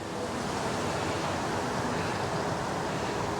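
Wind gusts across a wet lakeside in late October, a steady broadband rush buffeting the microphone without pause, loud and close, with no voices.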